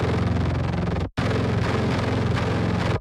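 A heavily distorted metal guitar layer run through Appex amp processing, a dense, saturated crunch held steady for about a second, a brief cut, then sustained again for two more seconds before stopping abruptly.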